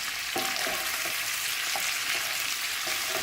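Bacon, garlic, chilli and onion sizzle steadily in a pan, a constant hiss with light clatter from stirring, and no voices.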